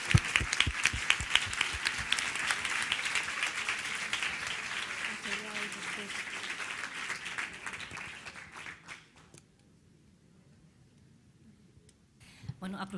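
Applause from a conference audience at a social workers' event, a dense patter of clapping that gradually thins and dies away into quiet, with a few claps returning at the very end.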